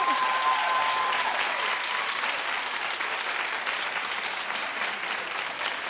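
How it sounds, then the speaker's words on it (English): A studio audience at a daytime talk show claps steadily and fairly loudly, a dense even wash of applause that holds for several seconds before easing slightly. "put your hands up then and clap and support your girl."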